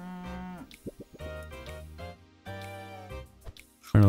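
A cartoon cow in the video game Super Auto Pets gives several short, tonal moos in a quick bouncy sequence over light game music, fairly loud and clear, with no talking.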